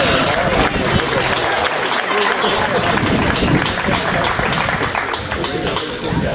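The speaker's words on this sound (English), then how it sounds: "let's give these kids a big round of applause" Audience clapping steadily for the kids at a 4-H swine show at a county fair, a dense continuous patter of applause filling the hall alongside crowd noise.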